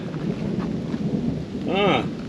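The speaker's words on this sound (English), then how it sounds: "Wow, some pretty violent lightning and thunder." Violent thunder rumbles through a rainstorm, a loud, continuous roll with rain hissing beneath it, and a brief rising and falling tonal sweep near the end.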